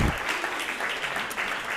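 Audience at a panel event on ethical fashion and sustainability gives a round of applause, a dense, steady roar of many hands clapping throughout.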